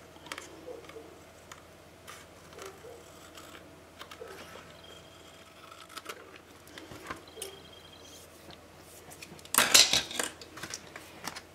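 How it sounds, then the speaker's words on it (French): 3D foam being trimmed with cutting tools, with light clicks and small taps scattered across a quiet room, then a short louder burst of snipping and clattering near the end. "Et puis je vais couper l'excédent."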